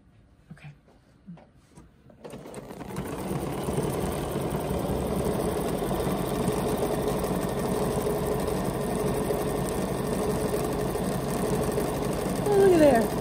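A BERNINA embroidery sewing machine stitches out a design, starting after a couple of seconds of quiet and then running as a steady, fast mechanical whir close by, with brief talk at the start.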